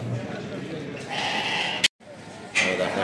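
Lambs at a crowded livestock market in Kadirli bleat close by in bursts, with a brief gap of silence partway through and a steady murmur of people talking and market noise underneath.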